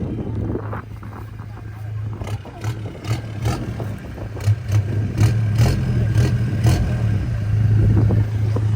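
A Toyota GR Hilux engine revs near an airstrip, its loud, throaty exhaust swelling and falling in repeated bursts with a steady low drone between, a voice briefly audible underneath.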